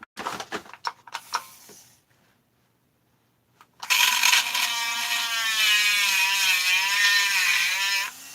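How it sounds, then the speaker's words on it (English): A Dremel rotary tool grinds while porting a Husqvarna 272XP chainsaw, first some close clattering and handling, then a pause, then a loud, steady high whine held up close for several seconds. "I'll dremel it."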